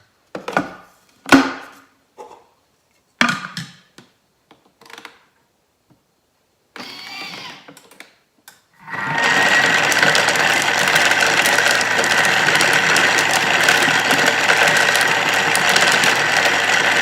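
A Thermomix kitchen machine whirs steadily for several seconds while mixing chocolate chips into banana muffin batter, loud and close, after scattered clinks and handling knocks.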